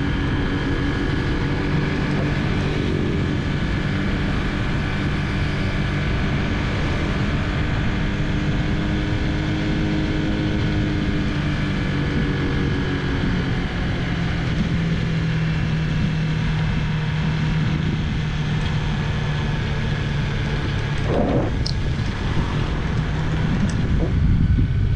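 A manual-transmission motorcycle holds a steady engine drone while engine braking on a long, steep mountain descent from Ketep toward Dukun, Sawangan, Magelang. The hum runs continuously for the whole stretch under steady wind noise.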